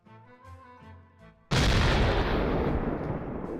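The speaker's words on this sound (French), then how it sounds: "C'est une petite explosion, mais assez stylé." A small incendiary TNT explosion in Minecraft bursts suddenly after a quieter stretch of game sound, a loud, broadband boom that holds and slowly decays over the next two seconds.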